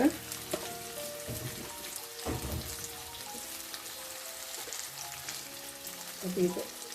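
Bombili dried fish fries in oil with tomato, giving a soft, continuous crackling sizzle with occasional louder pops and stirring scrapes, close but fairly quiet.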